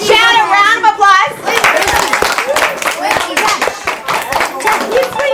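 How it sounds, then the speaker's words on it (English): A small group claps for Chad at an engineering outreach session with children, brisk uneven applause right after a sung or drawn-out voice, with scattered kids' voices mixed into the clapping. "Can all of you give Chad a round of applause?"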